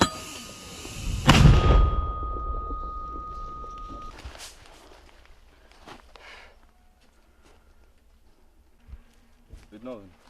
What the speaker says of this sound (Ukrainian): Є, ще одну міну вогонь.